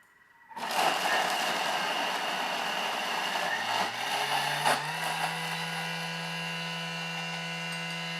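A Thermomix starts up and whirs at speed 10, chopping mee siam paste ingredients with oil, a loud steady motor whine that shifts lower in pitch partway through as the contents break down.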